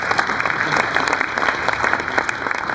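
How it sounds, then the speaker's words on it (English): An audience at a Canadian Polish Congress New Year reception gives a steady, dense round of applause for the MC, a continuous near clatter of many hands with no pause throughout. "Round of applause for our MC."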